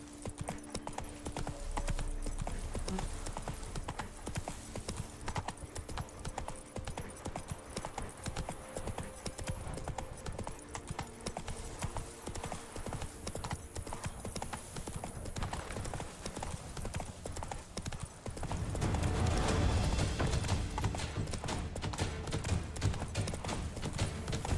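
Roach, the horse in The Witcher 3, trots with a steady, rhythmic clip-clop of hooves that grows louder and heavier toward the end, and no voices are heard.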